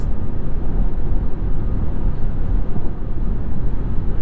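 Steady, loud low road and wind rumble inside the cabin of a 2025 Buick Envista at highway speed, with the AC fan turned down; a constant drone with no speech.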